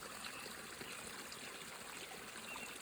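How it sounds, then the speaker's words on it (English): A babbling brook flows steadily outdoors among trees and green foliage, its water trickling and gurgling in a continuous, even wash with no voices. "May the sound of the brook and the green, the trees and the foliage and the magic of nature bless you"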